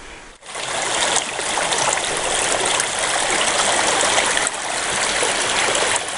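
A stream on a hiking trail near a North Carolina bear sanctuary rushes steadily and close by, a continuous broad wash of flowing water with no talk over it.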